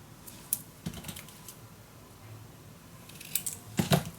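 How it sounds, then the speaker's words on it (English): Scissors cut craft paper pieces in a series of small, close snips and rustles, irregular and fairly quiet, with no talking. "I'm gonna cut these on the right position"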